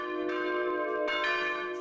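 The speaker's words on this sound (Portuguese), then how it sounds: "As badaladas agora são cronometradas, não podem passar de 60 segundos." A church bell tolls with a rich, ringing metallic tone, struck twice so each fresh stroke rises over the decaying hum, clear and fairly close with no voices.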